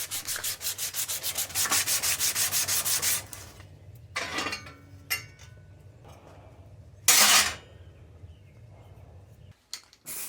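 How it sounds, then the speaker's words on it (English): Sanding rusty metal heater parts from a Triumph TR7 cabin heater, a close rhythmic rubbing rasp in rapid regular strokes, followed by quieter scattered scrapes and one short loud burst. "all the metal parts got sanded smooth"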